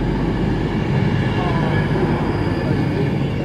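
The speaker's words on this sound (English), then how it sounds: "departing with the delayed 1325 London Midland service to London Euston" A London Midland Class 350 passenger train, units 350262 and 267, departs Birmingham International on the West Coast Main Line for London Euston, its traction and wheel noise forming a steady, loud, close rumble throughout.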